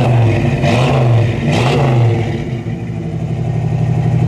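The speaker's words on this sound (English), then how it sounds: "We just went ahead and put brand new tailpipes, new chrome tips. This is dual exhaust sounds awesome." A Ford Falcon Sprint V8 with new dual exhaust, tailpipes and chrome tips revs up twice in quick succession, deep throaty blips rising and falling, then settles into a loud burbling idle.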